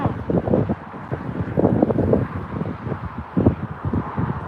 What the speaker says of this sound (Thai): ลมแรงมากค่ะ